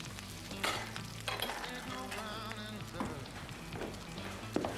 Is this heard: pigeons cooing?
no